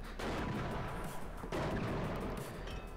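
Mortar fire in the real-time strategy game WARNO, two dull distant thuds about a second and a half apart over a low steady battlefield rumble, fairly faint.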